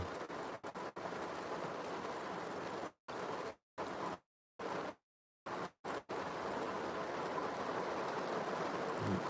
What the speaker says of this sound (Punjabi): ਮੀਂਹ ਨਹੀਂ ਹਟਦਾ